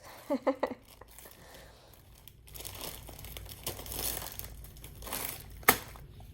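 Close crinkling and rustling of a package being cut open with small kindergarten scissors, with a few quick snips at the start and a sharp clack near the end.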